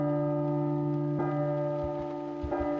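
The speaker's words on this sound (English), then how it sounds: "At the stroke of midnight, a bell tolls," A church-style bell tolls at midnight in the horror video game Silent Hill, its deep, sustained resonant strikes ringing out twice amid quiet, eerie stillness, loud and close with a long ringing decay.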